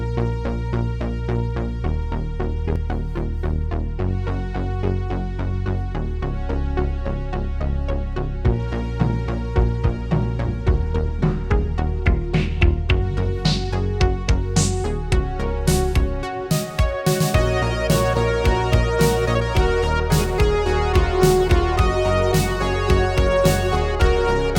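Trisynth, a free synthwave VST synthesizer, plays a preset demo: loud, sustained, bright layered synth tones with pulsing notes and percussive accents building steadily with no voices.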